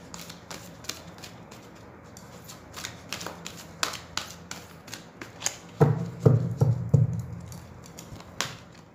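Tarot cards shuffled by hand in a series of crisp riffling bursts and taps, building to a louder flurry near the end, with no talk over them.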